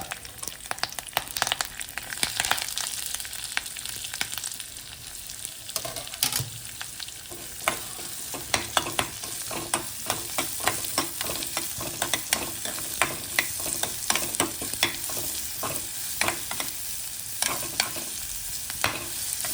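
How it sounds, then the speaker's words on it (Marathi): Onion frying in hot oil with curry leaves in a pan for a Kerala-style fish fry, a steady close sizzle broken by frequent scraping stirs, no talking. "कांदा व्यवस्थित भाजून घ्यायचा"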